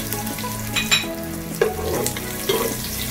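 Onion sizzles in hot oil in a pan while being stirred, a loud close crackle with occasional scraping knocks and no voices.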